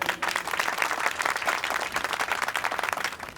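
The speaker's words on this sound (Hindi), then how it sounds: "तालियां।" A crowd claps continuously for a returning hero, a dense, even roll of hands held at steady loudness throughout, with no voices breaking through.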